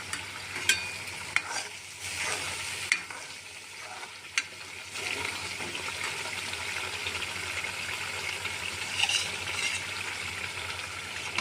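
Pumpkin (kasifal) pieces being stirred and fried in a pan give a steady close sizzle with scraping clatters from the spatula, heavier strokes early on, continuing alone without any talk.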